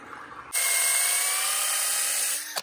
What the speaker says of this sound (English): I'm using a 5/16 drill bit because that's the standard tap size.